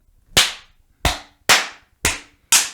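Five separate sharp hand claps, close and loud, spaced about half a second apart in an uneven rhythm, each ringing out briefly in a quiet room.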